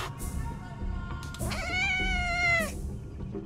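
A street cat in a video game lets out a drawn-out, rising and falling meow that swells into a caterwaul, loud and close over a low game background.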